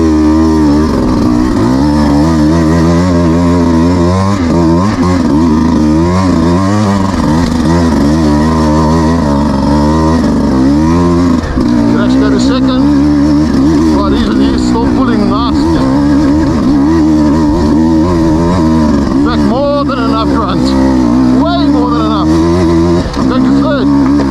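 A 2026 Beta 200 RR X-Pro two-stroke dirt bike lugging uphill in second gear on a technical trail, its engine loud and close throughout with continuous rising and falling revs, plus wind buffeting.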